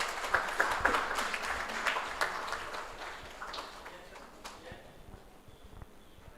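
A valedictory ceremony crowd claps for the chief guest, a moderate, fairly distant patter of hands with some sharper individual claps, gradually tapering off, with faint voices underneath.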